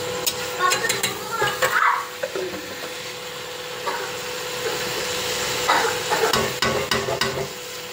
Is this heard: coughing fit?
no